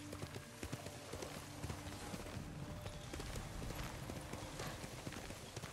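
Horse hooves clip-clopping in a steady galloping rhythm in the samurai video game Ghost of Tsushima, faint and continuous with a brief whinny-like tone.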